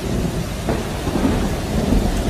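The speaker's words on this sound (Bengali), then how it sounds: "তারপর এক সময় যেন শুনতে পেলেন মুষলধারে বৃষ্টির ঝমঝম শব্দ।" A thunderstorm with heavy, steady rain rolls on as a sound effect in a horror story, with a dense, continuous downpour and low rumbles of thunder throughout, loud and alone.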